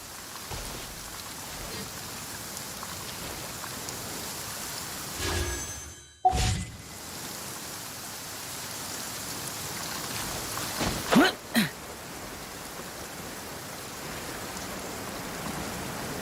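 Rain falling in the Genshin Impact video game: a steady, even hiss of rainfall throughout, broken by a brief dropout and a few short clicks, with no voices.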